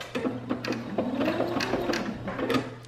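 A sewing machine runs a back stitch while finishing a seam on a storage bag, with a steady close mechanical whirr and rhythmic needle clatter that continues for the full stretch and never breaks.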